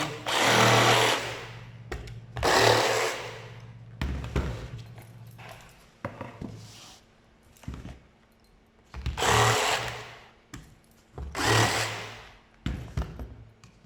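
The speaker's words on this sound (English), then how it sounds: "How I get rid of these tabs is with a jigsaw. So I basically pull this and the blade moves, and that's what cuts it." A handheld jigsaw cuts the tabs off a CNC-cut piece in loud, rough bursts of about a second each, with short pauses and quieter handling between the cuts.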